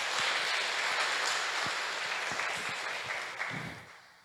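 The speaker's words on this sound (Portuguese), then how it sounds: "Dá uma salva de palmas para Jesus." A church congregation applauding for Jesus during a sermon, brief dense clapping that rings out loudly and then begins to fade.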